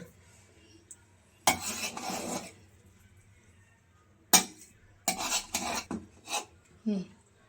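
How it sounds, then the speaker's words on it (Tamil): Chicken biryani is stirred in a pot with a metal spoon, producing several loud rasping scrapes in bursts separated by near silence, the later strokes quicker and clustered, with no talking. "இந்த மாதிரி ஒரு கிளறி கிளறி விட்டுருங்க"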